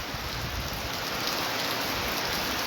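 A downpour in Gool subdivision roars in a constant dense wash of rainfall drumming on surfaces, loud and even throughout with no talking.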